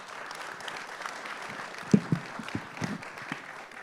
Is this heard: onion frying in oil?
no